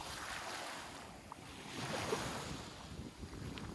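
Sea waves wash onto a beach near the Qatar–Saudi border, a soft continuous surf with wind buffeting the microphone and a slight swell in the middle, with no talking.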